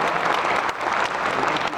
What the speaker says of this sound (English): Let's give yourself a round of applause here.